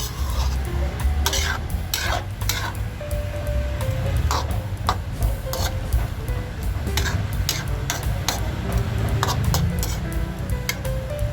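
A pot of boiling squash, long beans and shrimp in coconut milk is stirred continuously, with rhythmic ladle clinks and scrapes over a low bubbling simmer.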